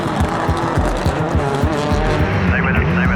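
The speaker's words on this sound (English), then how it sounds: "Off the line, Pastrana begins his attack" Rallycross race cars launching off the start line at the ARX round in Austin, Texas, 2018, a loud close roar of revving engines with stuttering gear-change pulses and tire noise, sustained and dense.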